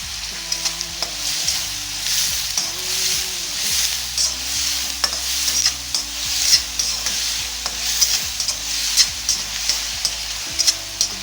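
Sliced onions with salt sauté in a hot pan for a prawn thokku, a steady soft sizzle broken by repeated scraping strokes of a spatula stirring close up, with no talking.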